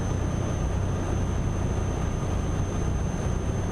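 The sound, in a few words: truck engine rumbling in the video game Euro Truck Simulator 2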